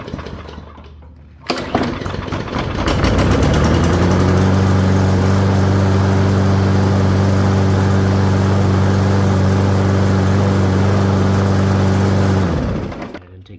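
A lawn mower engine fitted with an E3 spark plug is pulled and fires up after a quiet moment, then settles into a loud, steady idle for about ten seconds before cutting off.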